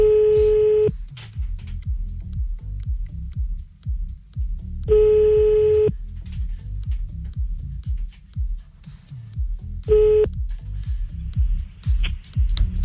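Ringback tones of an outgoing telephone call on a French radio show, three long beeps spaced about four seconds apart, with background music and chatter between them.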